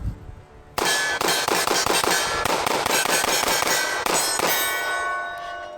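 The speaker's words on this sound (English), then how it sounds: "So now we're going to do the 15 rounds of the Shield Arms mag out of the Glock 43X." A Glock 43X fires 15 rounds from a Shield Arms magazine in a fast string of loud, sharp, closely spaced reports, with a ringing tail after the last shot.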